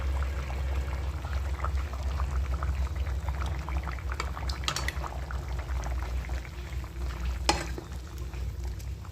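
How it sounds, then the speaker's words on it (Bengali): Amul milk pours into a simmering Bengali shukto in a pot, giving a steady close liquid gush over a low bubbling rumble, with one brief utensil clink near the end. "এখন আমার গরুর দুধ নেই, তাই একটু আমুল দুধ দিয়ে দিচ্ছি"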